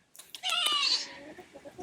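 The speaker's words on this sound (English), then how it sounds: "Hi, chickens." Backyard homestead chickens give a sustained, loud squawking cluck lasting about half a second, followed by fainter scattered clucks trailing off nearby.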